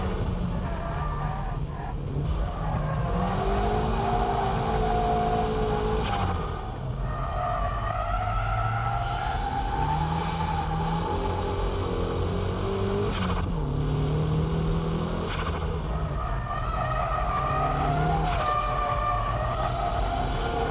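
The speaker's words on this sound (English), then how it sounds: "On the S-curves, the faint drift should be used." A car drifting through S-curves in a Keiichi Tsuchiya drift demonstration, its engine note loud and steady throughout, sweeping up and down in pitch as the revs rise and fall, with a hint of tyre scrub between shifts.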